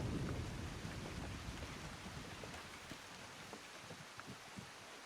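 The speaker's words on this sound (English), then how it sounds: "Look at this, it's raining like crazy here." Heavy rain pours steadily in the video game Disney Dreamlight Valley, a dense constant hiss with scattered drops and low rumbling, loudest at the start and easing slightly, with no talking.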